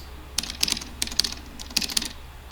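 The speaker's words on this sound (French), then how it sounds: "un clavier, le bruit de clavier." Fast, light clicking of computer keys being typed in short uneven runs, close by and fairly quiet, with no voices.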